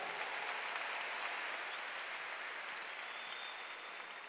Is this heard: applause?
yes